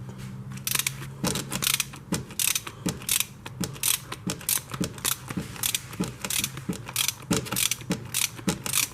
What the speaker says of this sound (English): So now I'm going to finish unbolting all the manifold bolts, and they'll pop right out.